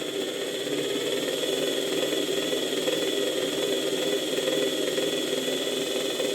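Faulty motor of an old Electrolux vacuum cleaner, with excessive sparking at the brushes, running continuously with a loud, steady whine and rough, noisy hum throughout.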